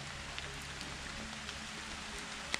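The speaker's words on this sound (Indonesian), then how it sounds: "rintik hujan yang membawa kesahduan tersendiri begitu" Soft, steady light rain patters quietly on surfaces at night near a cave, with scattered individual drops ticking faintly throughout.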